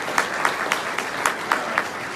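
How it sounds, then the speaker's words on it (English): Audience applauding panelists at the close of a comic convention games panel: steady, dense clapping from a crowd, moderately loud, with a few sharper claps standing out and no talking. "If you guys give the panelists a round of applause."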